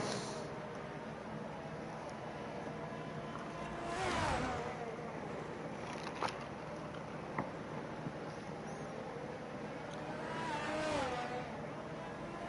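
An F1 race car on an out lap in a racing video game, a faint engine drone with pitch sweeps as it shifts and revs, rising twice into louder surges, under a commentator talking.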